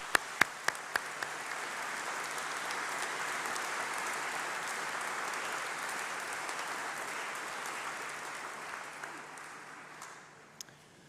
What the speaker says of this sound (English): So shall we give them a round of applause,